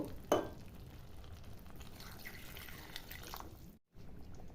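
About a cup of water hits Hyderabadi chicken masala frying over a medium gas flame, making one quick splash at the start and then a faint, steady sizzle and bubbling.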